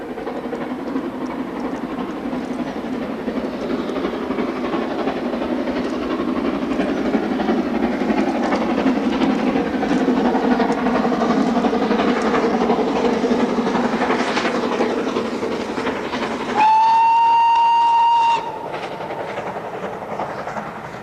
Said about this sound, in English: Clun Castle also took part in a successful series of summer tours from Gloucester to Swindon, here seen at Frampton Mansell on the climb